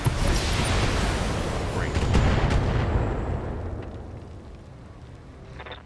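Mech weapons firing on a turret generator in BattleTech, a loud rolling barrage of booming shots that slowly fades into a lingering rumble, with a brief spoken word near the start.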